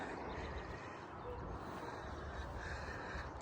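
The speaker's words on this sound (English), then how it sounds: "Crow." A crow caws a few times at a distance over constant wind and outdoor noise on a riverside walk.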